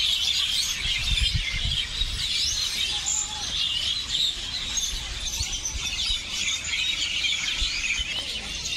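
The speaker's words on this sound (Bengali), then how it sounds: "কত রকমের পাখি ডাকছে শুনুন" Many birds call and chirp in a dense mangrove forest of the Sundarbans at dusk, a busy overlapping chorus of high twittering at moderate distance over a low background rumble.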